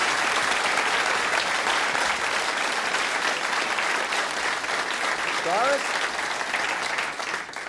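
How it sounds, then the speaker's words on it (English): Dense, loud studio audience applause on a 1981 Australian television talk show, steady throughout with a brief voice speaking over it near the end. "Everybody, give her a round of applause."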